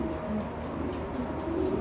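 A cock pigeon in a loft coos in a low, repeated throaty rhythm, fairly close and steady against a soft background hum.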